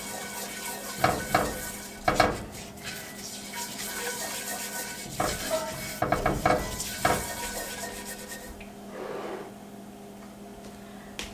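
A spoon scrapes and clinks around a pan while salt and pepper are stirred into a tomato gravy base, in irregular bursts of metallic stirring over a faint background sizzle.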